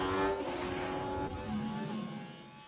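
F1 Manager 24 race cars scream past in a simulated overtake, high engine whine sweeping and falling as they pass, steady and fairly loud with no talk over it.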